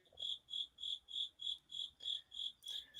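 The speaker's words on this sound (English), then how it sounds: "Yes. Crickets." Crickets chirping in a steady, even rhythm, about three pulses a second, fairly close and clear with no other sounds.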